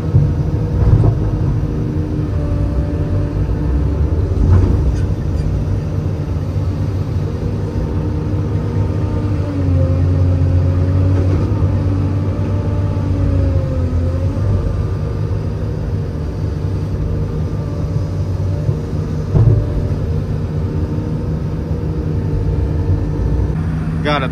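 A machine scoops dirt and loads it into a new dump truck on a farm field, giving a steady, loud engine rumble with a low drone throughout and no pauses.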